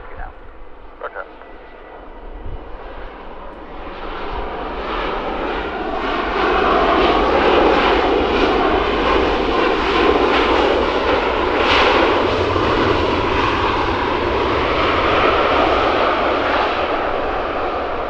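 A Ryanair jet airliner powers up for takeoff on runway 22 at London Stansted, a roaring engine drone that swells and holds loud and steady, heard from nearby with a brief radio call at the start.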